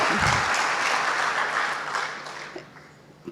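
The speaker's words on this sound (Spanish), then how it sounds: "El aplauso es para Paula" Applause at an honorary doctorate ceremony honoring judges, starting full and steady before tapering off into a few scattered claps near the end.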